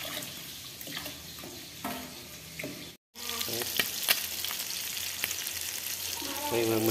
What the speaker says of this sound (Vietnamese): Khi mà mình chiên cá nó vàng à